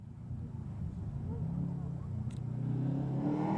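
A Group N rally car on tarmac, 1995 ELE Rally, pulls away under power with a steady low engine drone that builds and rises in pitch, broad road and tyre noise around it.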